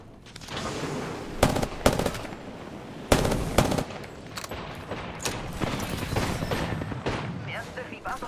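Bursts of video game gunfire crackle in loud rapid volleys, with sharp gunshot and machine-gun flurries, while someone talks over the shooting.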